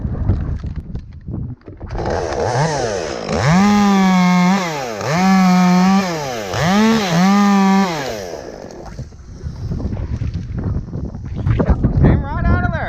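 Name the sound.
chainsaw cutting a large elm tree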